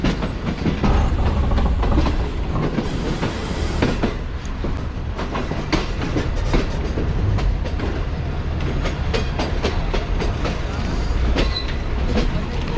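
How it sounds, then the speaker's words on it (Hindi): A train pulling out of Rawalpindi railway station in Pakistan, with a steady loud rumble and rhythmic clickety-clack of wheels over rail joints throughout, close by and without talk. "रावलपिंडी रेलवे स्टेशन के साथ ही एक और ट्रेन निकल रही है रावलपिंडी रेलवे स्टेशन से।"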